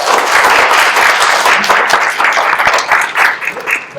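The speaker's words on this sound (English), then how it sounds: "Let's give him a big applause." Audience applause at a medical education conference for physicians, loud dense clapping that holds steady and then thins toward the end.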